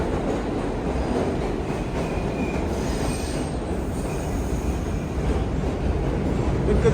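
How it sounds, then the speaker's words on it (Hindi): A New York subway train pulling into a metro station, its wheels squealing in sustained high whines over a loud, continuous rumble of rolling railcars, heard close from the platform with no voices. "आ गया हमारी ट्रेन। इस ट्रेन में बैठ के मुझे डाउनटाउन वाली साइड में जाना है।"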